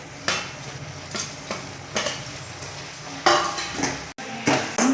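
Palm candy sugar syrup stirred in a metal pan, a utensil knocking and scraping against the pan in repeated clanks, loud and close, with short pauses between strokes.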